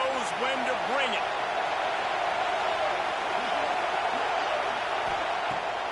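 A dense, steady roar from a stadium crowd at an American football game, loud and unbroken throughout, with a brief voice audible near the start.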